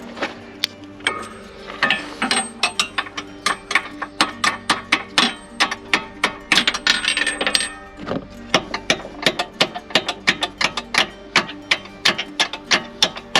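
Threads being tapped into metal on a van under repair give a long series of rhythmic metallic clicks and ratcheting ticks, close and fairly loud, in quick bursts with short pauses between.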